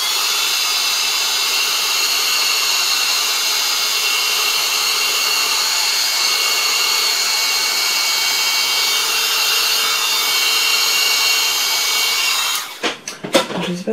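A heat gun blows steadily and loudly, close by, as it warms a medical card, a constant broadband hiss lasting about twelve seconds before it shuts off into brief clatter.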